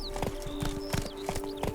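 Hooves of a horse trotting in The Witcher 3 video game, with regular clip-clop beats close by and a faint whinny-like tone and game ambience underneath, no talking.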